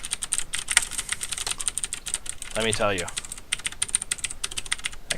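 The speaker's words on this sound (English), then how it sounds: "got a Razer Black Widow keyboard" Rapid mechanical clicking from typing on a Razer BlackWidow keyboard runs steadily throughout, close and crisp, with a brief spoken phrase breaking in partway through.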